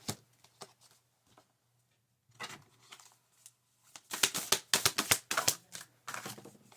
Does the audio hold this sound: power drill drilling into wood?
no